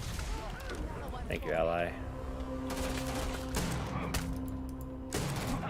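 Shotgun blasts in the space game Starfield, rumbling gunfire and impacts mixed with game sounds, a short voice line, and someone talking over the action.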